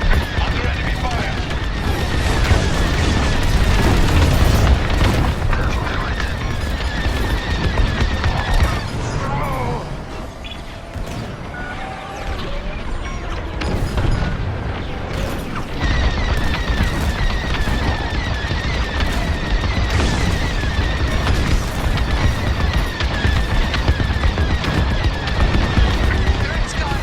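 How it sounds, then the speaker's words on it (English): Space dogfight from a Star Wars starfighter game: continuous laser cannon fire and blasts under engine roar, dense and loud, dipping briefly midway before the barrage resumes, with radio voices speaking over the combat. "Under enemy fire."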